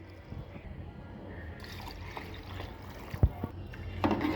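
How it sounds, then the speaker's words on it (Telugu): Water is poured from a glass onto rice in a pot for vegetable biryani, a soft close trickle and splash with a few brief pours and clinks, fairly quiet and without talk. "ఈ గ్లాస్తోనే బియ్యం తీసుకున్నానని ఇదే గ్లాస్తో వాటర్ వేసుకుంటున్నాను"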